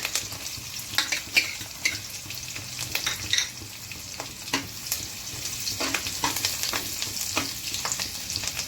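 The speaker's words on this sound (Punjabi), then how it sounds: "ਤੇਲ ਆਪਣਾ ਗਰਮ ਹੋ ਗਿਆ ਵਾ ਇੱਕ ਚਮਚਾ ਜੀਰੇ ਦਾ ਪਾ ਲੈਨੇ ਆ ਹਰੀਆਂ ਮਿਰਚਾਂ ਪਾ ਲੈਨੇ" Cumin, green chillies and garlic crackle in hot oil with a moderate sizzle. Frequent sharp spatters and stirring clicks pop through it at close range.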